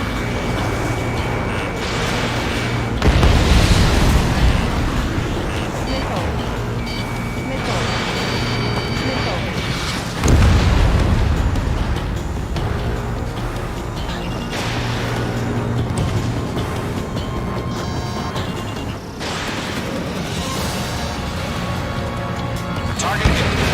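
Missile explosions strike targets in the combat flight game Ace Combat 7, heavy booming blasts around the 3 and 10 second marks over a constant roar of jet engines and battle noise, with radio chatter running throughout.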